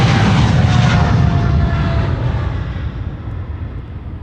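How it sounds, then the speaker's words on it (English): A Boeing 777 jet climbs away after takeoff at Amsterdam Schiphol, its loud, broad engine roar dominant at first and then slowly fading and thinning as it recedes, with no voices. "777 on its way to Johannesburg."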